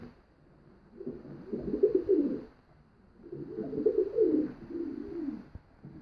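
Pigeons cooing in a loft, two long rounds of soft, low, throaty coos close by, separated by brief quiet gaps.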